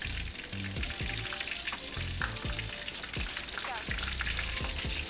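Panko-breaded flounder and trout fry in oil that is too hot, giving a steady close crackle and sizzle with busy popping bursts throughout.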